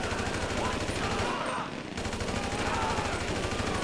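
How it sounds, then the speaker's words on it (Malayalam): Rapid automatic gunfire in the video game GTA 5, a dense continuous stream of shots that briefly drops out for a moment before resuming just as loud. "നമ്മുടെ ട്രെവർ പ്രാന്ത് എടുത്ത് വെടിയിക്കുന്നുണ്ട് കേട്ടോ"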